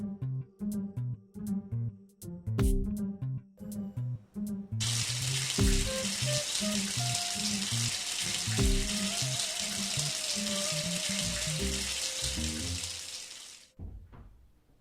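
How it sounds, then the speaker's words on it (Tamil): Water runs steadily from a tap for several seconds while someone bathes, a broad rushing hiss over faint background music, starting abruptly and cutting off near the end. "நான் குளிக்க போகிறேன்."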